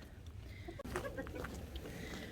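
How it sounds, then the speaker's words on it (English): Chickens scratching in a garden give soft, scattered clucks over a faint outdoor background, with one brief dropout partway through; no talking. "having a little bit of a problem here with the chickens wanting to dig the worms out of the hole"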